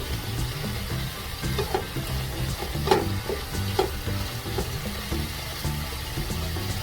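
Igado ingredients, pork and liver pieces, fry and sizzle in a pan without soy sauce, with steady close frying hiss and occasional stirring scrapes and clinks throughout.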